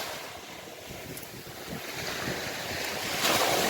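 Sea waves washing onto a beach shoreline, a steady broadband rush with gusty wind noise on the microphone, growing louder toward the end, no voices.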